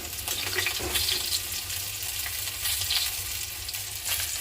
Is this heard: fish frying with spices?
yes